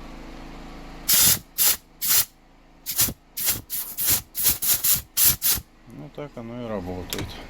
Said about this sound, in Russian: Взять старые втулочки и через них подать воздух. И оно будет видно, как работают поршни.